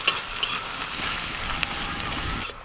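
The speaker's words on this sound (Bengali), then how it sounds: "আর আমাকে বেরেস্তা ভাজার দায়িত্ব দিয়ে গেছে তো বেরেস্তাটা ভেজে দিই" Sliced onions frying in hot oil until crisp for beresta, a steady dense sizzle with occasional stirring clicks and scrapes, close and continuous before dropping off abruptly near the end.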